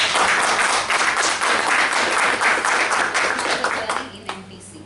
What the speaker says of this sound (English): give a big round of applause for Toastmaster